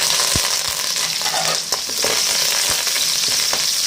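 Onions sizzle in a pan for a vaala fish curry, a loud, close, continuous frying hiss broken by a few sharp stirring clicks.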